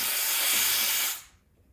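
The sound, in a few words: Sunbeam EM7000 coffee machine steam wand frothing milk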